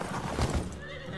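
Horses neigh sharply in the video game Evil West, a short, close whinny over the muffled thud of galloping hooves.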